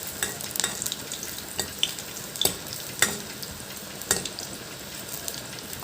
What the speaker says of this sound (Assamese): তাৰপিছত আৰু এটা পকা জলকীয়া মই তেলতে দি দিছোঁ।